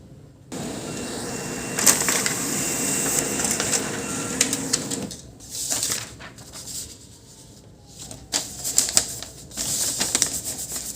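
HP LaserJet M501 laser printer running a test print after a paper jam fix, with a steady mechanical whir, repeated clicks and feed noises, stopping and restarting several times, close and loud.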